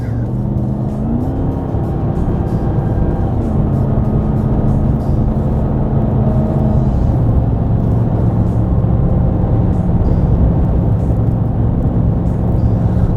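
A 2021 RAM TRX Launch Edition pickup accelerates hard on the road, its loud engine rumble rising in pitch through the gears and staying steady and close throughout, with no voices.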